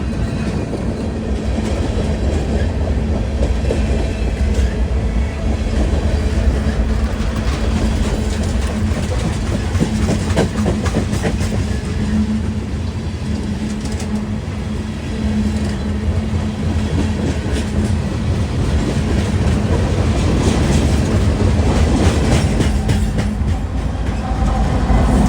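A long freight train with a 4,500 horsepower EMD SD70 distributed power unit rolls by continuously in eastern Pennsylvania, with a steady low rumble and rhythmic clacking of wheels over rail joints, close and loud throughout.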